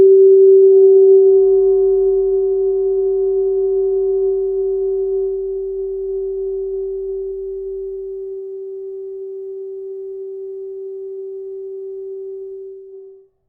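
Helmholtz resonators radiate a pure, steady tone in an acoustic propulsion demo, with a low hum beneath it for the first several seconds. The tone slowly fades and then cuts off.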